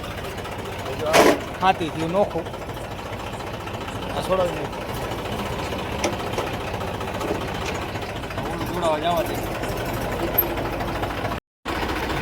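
A tractor engine idles on a farm with a steady, rough low rumble running continuously beneath people talking nearby.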